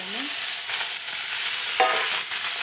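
Green chillies, onions and tomatoes fry in oil for a ridge gourd chutney, giving a steady close hiss with brief bursts as a spoon stirs the pan, and no voices.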